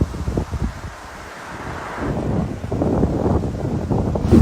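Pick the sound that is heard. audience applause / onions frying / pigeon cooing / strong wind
strong wind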